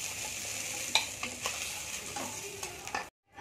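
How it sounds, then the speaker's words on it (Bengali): Fish frying in mustard oil in a pan, a steady close sizzle with short stirring and scraping clicks throughout, no voices, ending abruptly in silence. "বাকি মাছগুলো ভেজে নেব।"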